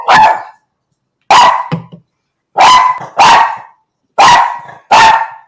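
A dog barks on command, six loud, close single barks in an irregular rhythm with short silences between, and no talking.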